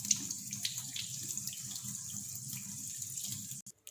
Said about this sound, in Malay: Kemudian cuci betul-betul halia tu.